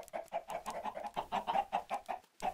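Blocky farm chickens in the Minecraft Crazy Craft game cluck in quick, repeated bursts, a busy run of sharp clucks with no talk over them.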